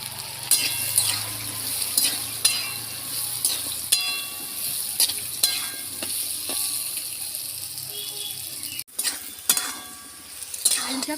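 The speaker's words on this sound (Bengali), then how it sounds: "আলুগুলো ভালো করে ভেজে নেব।" Potatoes seasoned with salt and chili powder fry in hot oil in a pan. Steady sizzling runs underneath with occasional stirring scrapes and clinks, a brief drop near the end, then the sizzle continues.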